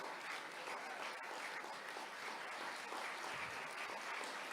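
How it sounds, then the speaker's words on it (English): Muffled, distant applause from an audience at an international young leaders summit rolls on as a steady, even wash of clapping throughout. "Give them a round of applause."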